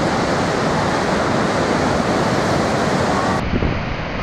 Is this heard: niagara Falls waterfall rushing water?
yes